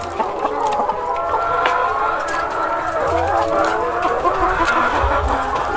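A flock of laying hens clucks continuously, many overlapping calls close by, with a low engine rumble in the background.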